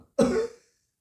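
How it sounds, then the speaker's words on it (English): A single short, harsh cough, close and loud, followed by silence. "I cough."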